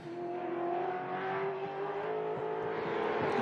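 Race cars in a Hi-Tec Oils Super Series race at Winton roar down the straight, a loud sustained engine drone with steady pitch, close and continuous throughout.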